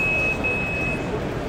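A steady electronic shot timer buzzer at a shooting competition sounds as one continuous, fairly loud high-pitched tone that holds for about a second and then cuts off, over a low background rumble.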